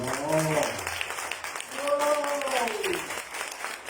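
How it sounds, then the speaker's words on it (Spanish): Church congregation applauding, a continuous wash of clapping under a voice that speaks and sings over it. "Den un aplauso al Señor"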